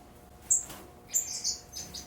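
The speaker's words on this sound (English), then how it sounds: "So those are the birds that are up there right now" Pet finches in an aviary bird room, with lavenders and black cheeks among them, give a few short high chirps, quiet and spaced out over a soft background hiss.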